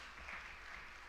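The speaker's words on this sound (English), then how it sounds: "Can we have a round of applause?" Applause from an audience at a university postgraduate research day, steady and moderately loud for about a second with no voices over it.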